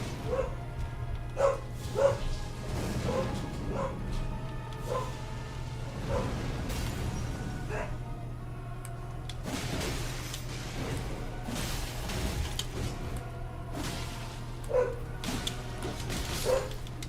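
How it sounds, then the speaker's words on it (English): A dog in a video game barks in repeated short bursts, some yips and whimpers mixed in, over a steady low game hum and swooshing effects, fairly close and clear. "Dog. Dog."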